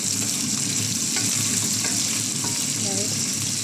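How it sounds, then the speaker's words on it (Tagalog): Chicken frying in hot oil in a pan, a loud, steady crackling sizzle with scattered sharp pops and spatters throughout and no speech. "Tumatalamsik. Sangkot sa lang po natin yung chicken."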